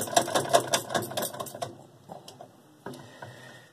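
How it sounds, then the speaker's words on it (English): A center bolt comes out of a Whirlpool washer under repair with a power tool, giving a rapid run of close mechanical rattling clicks that fade, then a few separate knocks and a short buzz, with no speech. "There's one dead center bolt you'll see down there. When you just get that bolt out,"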